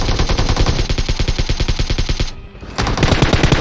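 Loud, rapid automatic gunfire from a mobile shooter game rattles off in continuous bursts, breaks off briefly for a moment, then resumes just as loudly.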